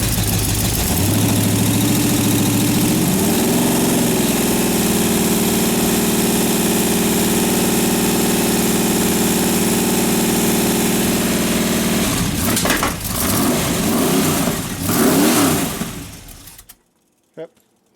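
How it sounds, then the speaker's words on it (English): A 327 engine idles steadily and loudly with a constant mid-low drone, its header gaskets burnt out, before the sound sputters and cuts off near the end. "That's what you hear is the gaskets burning out."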